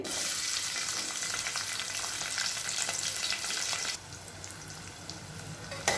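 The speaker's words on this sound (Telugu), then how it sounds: "ఆయిల్ హీట్ ఎక్కిన తర్వాత ఒక పెద్ద సైజు ఉల్లిపాయ, కొంచెం కరివేపాకు నేను వేస్తున్నానండి" Chopped onion and curry leaves frying in hot oil, a dense steady sizzle that abruptly softens partway through, continuing at a lower level.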